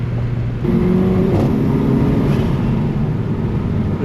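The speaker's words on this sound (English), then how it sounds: "dual clutch transmission with a really powerful, punchy little 4-cylinder turbo, and this hot hatch is such a good combo" An AMG hot hatch with a punchy 4-cylinder turbo engine and dual-clutch transmission drones loudly and continuously, the revs climbing and shifting, heard from inside the car.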